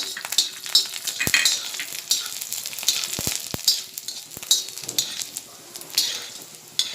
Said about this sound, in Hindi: थोड़ा लहसुन गरम करके लूँगी